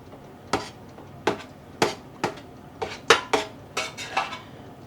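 A metal spoon poking yarn in a dye pot, about a dozen distinct close clinks and taps against the pot at an uneven rhythm, some in quick pairs, no speech.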